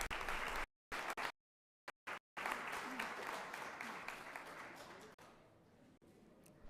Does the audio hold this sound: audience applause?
yes